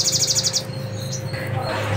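A caged sogo bird chirps in rapid bright bursts, a quick run of repeated tweets at first followed by softer calls, close and clear over a faint background hum.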